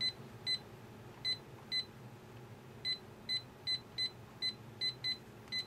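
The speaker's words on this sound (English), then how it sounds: "I'll just ring off my other phone." Electronic beeping from an Android Gingerbread smartphone ringtone, a series of short, bright, evenly spaced beeps repeating steadily at moderate distance over a faint background hum.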